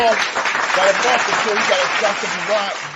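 A dense wash of crowd applause plays as a sound effect, steady and fairly loud for a few seconds beneath a talking voice.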